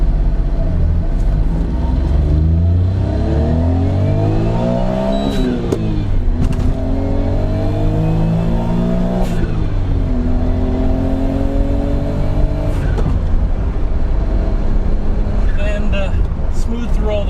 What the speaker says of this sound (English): You hear that little blow-off valve too, so it is a little bit modified.